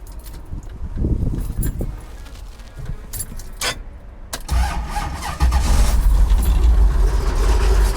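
A 1971 Dodge Challenger R/T cranks and fires up after a faint jangle of keys, its engine catching with a rumble and settling into a loud, deep idle, with wind noise buffeting throughout.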